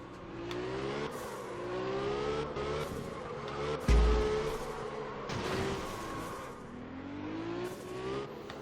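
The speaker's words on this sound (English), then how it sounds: "That's fucking skidding." A car engine in the driving game Absolute Drift revs and whines continuously with rising and falling pitch, under scraping tire squeal and a sudden low thump midway, with no talking.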